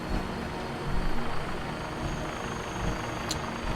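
Helicopter in the video game Fallout 4, a steady, fairly loud rotor and engine drone that runs continuously throughout with no talk over it.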